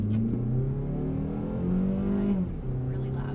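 A 2026 Mazda CX-30 2.5 S accelerates hard from a standstill to 45 mph, the engine revving upward through its gears, the pitch climbing and dropping at a shift, with a voice briefly audible over it.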